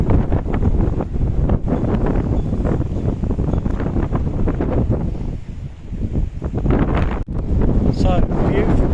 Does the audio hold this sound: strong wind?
yes